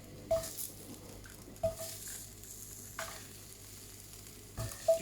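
Shallots frying in oil in a pan for lamb tagine, a soft steady sizzle with a few brief scrapes or knocks spaced across the clip, no talking.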